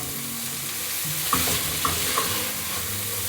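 A mixture of ground beef, potato and cheese sizzles softly in a hot pan while a utensil stirs it, with a few sharp scrapes against the pan over a constant low frying hiss.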